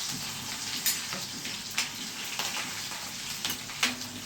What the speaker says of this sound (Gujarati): અને વઘાર જોઈએ તો બહુ સરસ વઘાર આવશે.